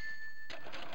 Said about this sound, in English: Like that cash register sound.